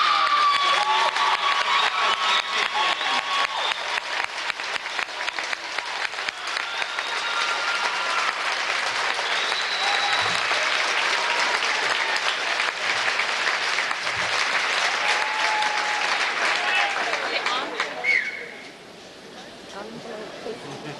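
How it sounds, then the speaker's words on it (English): A large crowd at a 1992 championship event claps in loud, sustained applause with scattered cheers and shouts, fading out abruptly near the end. "May we have a big round of applause for all of our"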